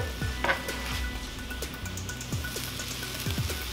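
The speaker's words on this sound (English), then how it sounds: "Get a little grill on them, a little sear." Steak fajitas sear on a Presto indoor griddle, a steady faint sizzle with occasional crackles and soft scraping close by.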